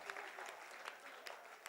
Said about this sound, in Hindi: ताली भाई बजाओ